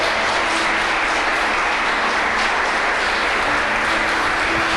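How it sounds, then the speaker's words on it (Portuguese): Church congregation applauding loudly for the name of the Lord, a dense, steady roar of clapping that stays loud and even from start to finish. "aplaude bem forte o nome do Senhor"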